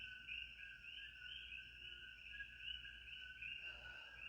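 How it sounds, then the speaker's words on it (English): Steady two-note chirps of coqui frogs fill a quiet night on Hawaii's Big Island, faint and distant, repeating continuously without any voices. "you might hear our coqui frogs in the background here"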